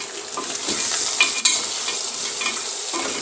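Grated garlic frying in a pan during Kenyan home cooking, a loud steady crackling sizzle close by with scraping stir strokes and a sharp utensil tap partway through.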